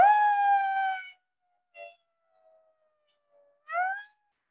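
An ambulance or police siren gives a steady wailing tone for about a second. After a gap with faint brief tones, it returns with a rising sweep. There is no talking.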